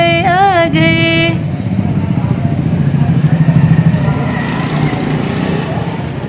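A motorcycle engine rumbles steadily at close range, idling as the bike arrives outside a house, with a voice speaking briefly at the start.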